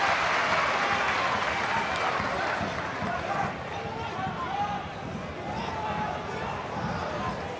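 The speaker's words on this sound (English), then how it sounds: "That's got the home crowd on their feet again." Home supporters at a Motherwell versus Rangers Scottish league football match in 2018 keep up a dense roar of cheering and applause throughout, with a commentator talking over the stadium noise.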